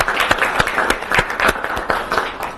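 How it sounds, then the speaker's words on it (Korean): Audience applause at an indoor book-review concert lecture, a short spell of moderately loud clapping with distinct individual claps standing out over the crowd. "박수 한번 주십시오."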